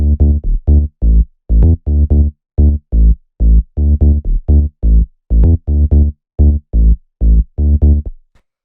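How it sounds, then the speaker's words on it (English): A deep, plucky two-layer tech house bass line plays short staccato notes in a bouncy, repeating rhythm, alone and fairly loud, ending with a brief silence. "Then we have the bass, which is made up of 2 layers, and it sounds like this."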